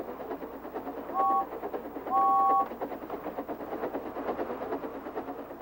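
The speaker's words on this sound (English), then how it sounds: "So steam engines blow their whistles." Two short steam engine whistle blasts, the second longer, sound over busy train rumble and background music.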